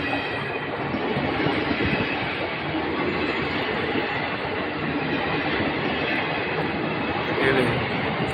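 A long-distance Kalka train rolls by with a steady, loud rumble and dense rattling of carriages, continuous throughout and close by.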